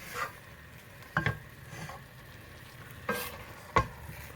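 Spoon stirring sauerkraut cabbage in a hot saucepan, a few scraping strokes against the pan bottom over a soft continuous sizzle, close and alone.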